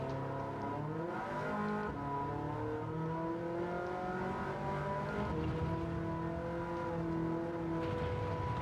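A Ferrari 308 GTB Le Mans race car in Gran Turismo 7, its engine revving and shifting up through the gears in a loud, continuous drone while it laps slower cars on track.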